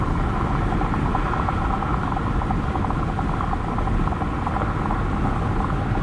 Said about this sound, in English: Now this is a particularly loud section of highway